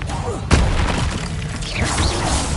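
A fire spell is cast in Hogwarts Legacy, giving a single loud whooshing burst with a thudding impact over a dense rumble of game effects. A voice calls out over it.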